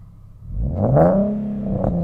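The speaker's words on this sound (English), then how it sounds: "That was a good rev." A NISMO Nissan 370Z with a Fast Intentions exhaust revs up once to about 4,500 RPM, rising and holding, then falling back, loud and close with no talking.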